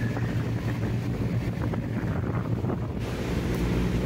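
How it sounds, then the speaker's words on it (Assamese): Cool wind blowing steadily across the Brahmaputra riverbank, a continuous broadband rush with buffeting on the microphone and a low rumble beneath, loud and unbroken throughout. "ব্ৰহ্মপুত্ৰ নদীৰ পাৰত অনবৰতে চেঁচা চেঁচা বতাহ বলিয়ে থাকে"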